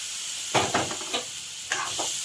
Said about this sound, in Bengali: তো মশলাটা ভালো করে ভাজা ভাজা হয়ে গেছে, এখন জল দিয়ে দেবো।